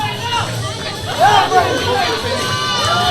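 A crowd at a local combat-sports undercard event stands and roars, forming a dense, loud wash of cheering and shouting voices that swells briefly midway, with an announcer speaking over it.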